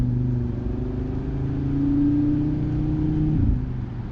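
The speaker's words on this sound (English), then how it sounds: "Let's see what it's like when you give it a little gas." A 2018 Audi RS3 pulls away on light throttle, its engine tone climbing steadily and smoothly up close before dropping sharply at an automatic upshift near the end.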